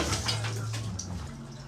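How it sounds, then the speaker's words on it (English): A powerful stream of water from a shower hose rushes and splashes steadily at close range, a continuous broadband spray with no talk over it. "With that powerful water just streaming through your body like that"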